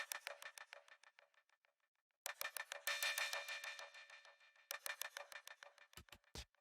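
The DL Machine Hat patch on the SynthMaster One synth ticks out quick rhythmic bursts of bright, metallic, clicky hat-like pulses, faint and alone, with short gaps between phrases.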